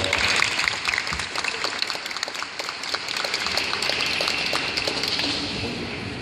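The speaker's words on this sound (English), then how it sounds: "So let's give her a round of applause." Steady applause from an audience at a Black History Month community event in a shopping mall, continuous crowd clapping lasting several seconds, fairly loud and even throughout.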